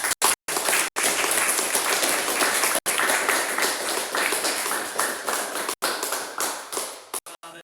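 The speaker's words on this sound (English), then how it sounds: "again, for another round of applause for Julianne King." Audience applause at a live show, sustained and dense clapping across the whole stretch with a few brief breaks near the end, close and loud.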